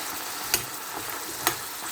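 Ground beef with carrots and ground black pepper frying in a pan, giving a steady soft sizzle with two brief clicks of stirring, no talking.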